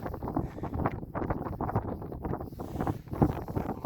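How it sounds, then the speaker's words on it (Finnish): Gusty cold wind buffets the microphone outdoors while pike fishing, in a continuous rough roar, rising and falling without any voices. "Kylmä tuuli kyllä on"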